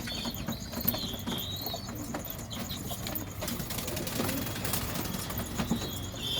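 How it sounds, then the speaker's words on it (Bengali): Kaldoma breeding pigeons, a hen among them, feeding together and cooing softly, with intermittent wing flaps and faint bird chirps over a steady low background rumble. "কালদমা পায়রা, এটা আমার কালদমা মাদি পায়রাটা।"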